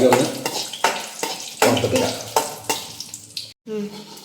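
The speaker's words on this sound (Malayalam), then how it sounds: "ആദ്യം അണ്ടിപ്പരിപ്പ് ഇട്ട് കൊടുക്കാം. നെയ്യിലാണ് വറുത്തെടുക്കുന്നത്." Cashew nuts frying in ghee, a crackling sizzle with bursts of stirring and scraping in the pan, briefly cut off near the end and then resuming.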